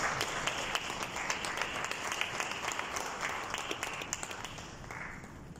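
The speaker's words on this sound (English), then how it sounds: "Please give him a big round of applause while he joins us on stage." Sustained audience applause at a conference, dense even clapping from a large crowd that fills the room and slowly tapers off, with no speech over it.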